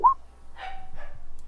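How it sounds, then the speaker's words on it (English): A dog gives a few short barks and yips indoors, fairly faint and distant, with a brief whimpering tone, heard alone without talk. "And Tom, is that your dog?"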